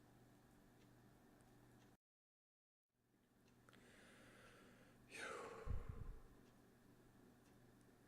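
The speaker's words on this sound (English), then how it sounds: "The sound of breathing." A single slow, close breath swells out of near silence after a brief dropout, with a soft huffing exhale rising and then fading, faint and heard alone.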